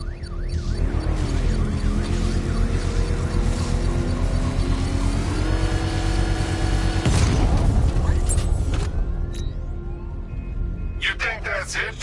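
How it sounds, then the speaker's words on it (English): In a Batman video game, a power winch triggers a controlled bomb explosion: a deep boom bursts midway through a loud bed of rumbling machinery and wavering siren-like whines, with voices speaking over it. "I can use the power winch to trigger a controlled explosion"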